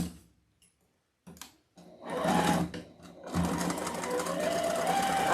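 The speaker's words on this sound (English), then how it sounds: "I'm just sewing around it and I'm going to flip it around." After a few quiet taps, a sewing machine stitches around felt in a fast, steady mechanical whir that runs nearby with short pauses and grows continuous toward the end.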